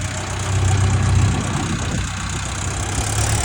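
Tractor engine running steadily while the machine reverses, a loud, continuous low rumble with a slight knocking texture and no pauses.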